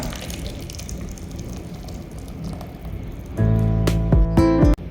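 Water poured into a bowl of freshly ground batter in a home kitchen, a soft running trickle that turns brighter and louder as the stream fills the bowl for a second or so near the end.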